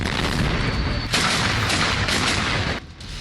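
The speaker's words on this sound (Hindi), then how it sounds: "इन बिल्डिंगों से दोनों सेना एक दूसरे पर ताबड़तोड़ गोलियां बरसा रही हैं।" Soldiers trade gunfire among ruined buildings in Mariupol, producing a dense, continuous roar of shots and booming reports that ends abruptly.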